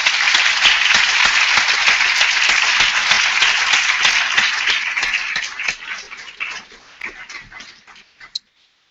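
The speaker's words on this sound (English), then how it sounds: "let's first give a round of applause to our speakers" An audience at a university debate on abortion and human rights applauds the speakers, with loud dense clapping that fades gradually to a few scattered claps and then silence.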